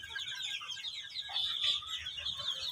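Many Fayoumi chickens on a poultry farm in Taraganj, Rangpur, Bangladesh cluck and chatter together in a dense, continuous murmur, close by and fairly quiet.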